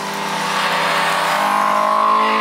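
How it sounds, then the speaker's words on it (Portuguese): A Honda CBR 1000 RR-R Fireblade SP is ridden hard around the Capuava track in heavy rain, its engine holding a loud, steady high-revving whine that climbs slightly, with no voices over it. "Eu pilotei essa moto em Capuava debaixo de chuva forte."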